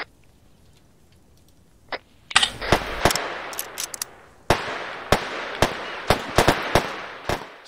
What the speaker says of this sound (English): Some more shots about east of me